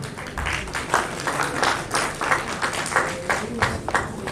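Children clap for dignitaries at a community talent award ceremony, producing dense, fairly loud applause that swells and eases in uneven waves throughout.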